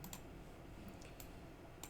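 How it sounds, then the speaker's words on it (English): Several sharp keystrokes on a computer keyboard during 3D modelling work, scattered and irregular, faint against a steady low background hum. "let's hit 3 on the keyboard"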